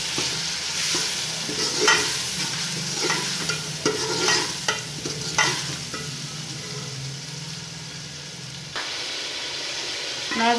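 Chicken biryani masala sizzling and frying in a pot while being stirred, with repeated scraping strokes over a steady hiss; a few brief voices surface faintly underneath.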